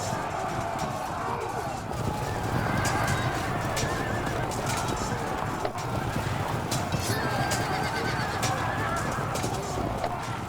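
Horse neighing and whinnying amid hooves clip-clopping in the historical battle strategy game Field of Glory 2, busy continuous battlefield noise with honking calls, and someone talking over it.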